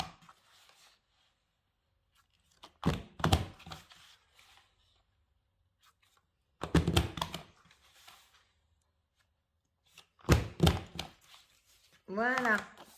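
Paper punched on a gift bag punch board, three short clusters of sharp thunks and clicks spaced a few seconds apart, close and fairly quiet, with brief talking at the end.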